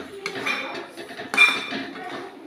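A lid is set on a pot of cooking chicken with a few metallic clinks and rattles, close and brief, the loudest knock near the middle.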